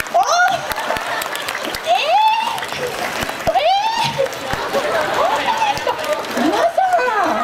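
Applause from a crowd at an outdoor mascot stage show with Doala and Tsubakuro, lively clapping mixed with cheers, chatter and an amplified voice over it.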